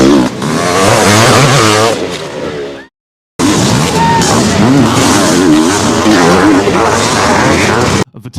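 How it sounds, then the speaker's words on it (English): Loud motocross motorcycles roar and rev at a race, with a crowd and commentary-like voices mixed in, briefly cutting to silence midway before the racing noise resumes. "Kudrowski flicks his motorcycle at Larocco after they cross the finish."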